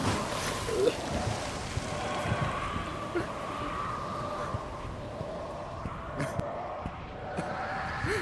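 Flood water rushes through a VRChat disaster survival game as a broad, steady roar like wind-driven surf, with a few faint knocks and a brief voice near the end.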